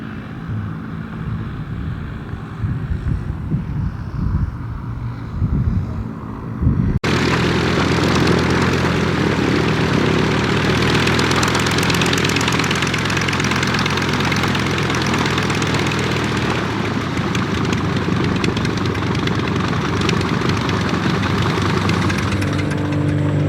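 A light propeller airplane coming in to land at a vintage airshow, its engine droning close and loud, starting moderate and then swelling suddenly into a sustained roar that holds steady.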